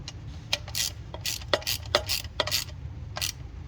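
Ratchet clicking as brake caliper bolts are tightened on a 2015 Dodge Durango Limited V6; a dozen or so sharp, close ratcheting clicks in short uneven bursts, alone without talk.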